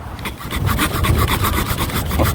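A hand saw rasps rapidly and rhythmically through a tree branch, a steady run of close back-and-forth strokes.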